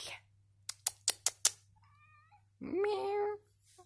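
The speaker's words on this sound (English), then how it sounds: "Did you hear her meow? I hope you did." A cat meows once clearly after a short run of five sharp knocks or taps, followed by a longer, louder meow near the microphone, with quiet hum in between.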